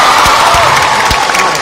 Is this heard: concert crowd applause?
yes